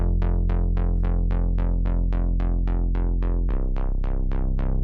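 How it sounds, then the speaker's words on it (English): Synth bass in an ambient music mix, now layered with a deep sub bass: a regular series of plucked, quickly decaying notes riding on a heavy sustained low drone, with a pitch change near the end. "add the sub bass in there"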